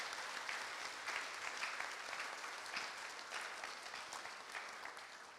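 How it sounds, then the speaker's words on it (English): An audience at a diocesan conference session applauds, a steady wash of hand clapping that holds evenly for several seconds at moderate distance, with no voices on top. "Friends, if we could just give one very, very quick round of applause to all those who contributed this evening."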